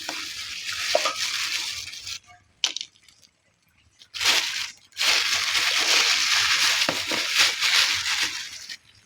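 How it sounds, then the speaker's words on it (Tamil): Lumps of jaggery are crushed in water in a clay pot, producing loud close grinding and crunching with sloshing, in several bursts broken by short quiet pauses and no talking. "ரெண்டு வெள்ளத்தை நசுக்கி சேர்த்தாச்சு இது பாவு ஆகட்டும்"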